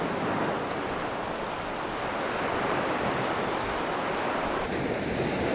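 Waves breaking on the beach at Cromer in winter, a loud, continuous wash of surf mixed with wind buffeting the microphone, steady throughout with no voices.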